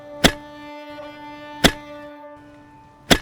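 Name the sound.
digging soil in a field (story sound effect)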